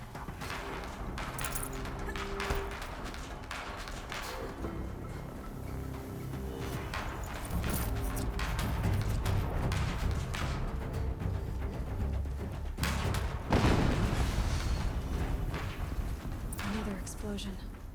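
A single loud, booming explosion in Horizon Zero Dawn Remastered bursts out midway through steady game music and mechanical rumble, with a voice talking throughout.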